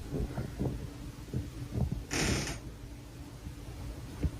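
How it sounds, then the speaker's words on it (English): Kitchen ice maker giving off soft creaks and faint mechanical clicks, with one brief hissing burst in the middle, all quiet in a still room. "Noises from the ice maker"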